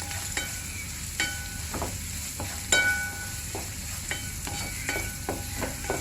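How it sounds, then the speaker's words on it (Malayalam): A spatula scrapes and stirs mushrooms with green chilli and curry leaves frying in coconut oil in a pan, steady sizzle punctuated by repeated knocking stir strokes, one louder clack midway. "ഇനി നന്നായിട്ടൊന്ന് ഇളക്കി കൊടുക്കാം."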